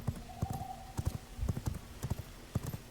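Hooves clip-clop in an uneven trotting rhythm as a small horse is ridden in V Rising, a series of sharp close thuds with a faint background tone.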